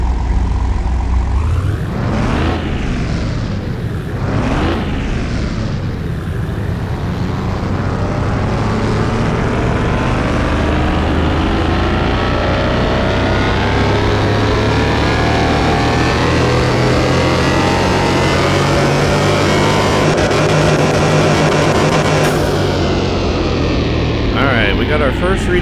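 Porsche engine in Car Mechanic Simulator 2021, revved on a dyno: a couple of quick blips, then a long loud rising wail up to high revs before cutting off, with a voice talking faintly underneath.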